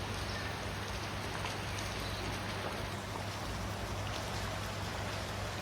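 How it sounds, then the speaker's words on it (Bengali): Steady rain pours down on a rooftop in Bangladesh, a dense even hiss with no pauses, continuous throughout and moderately faint, with no voices. "এখনো বৃষ্টি হচ্ছে।"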